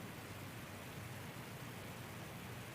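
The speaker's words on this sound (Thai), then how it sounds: "ฝนกำลังตก" Continuous patter of moderate rain falling on surfaces in Bangkok, a constant moderate hiss heard alone without any talking.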